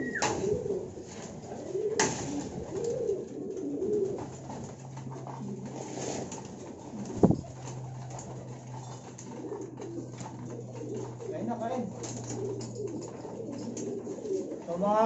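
Racing pigeons coo softly and repeatedly after returning from training in Pagbilao, Quezon, low burbling calls over faint background noise with a couple of brief knocks.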